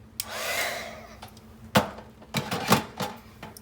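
A heat embossing tool blows hot air in a brief whooshing burst over mixed media butterfly wall art, followed by a few light clatters and taps nearby.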